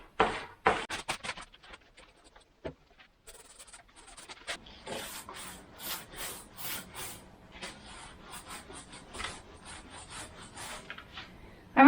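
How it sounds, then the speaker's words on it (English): Paintbrush dabbing and stroking paint onto a wall on a farm in central Portugal, giving soft, close, irregular rubbing and swishing strokes with short pauses between them. "I will touch up all the tricky bits with a brush."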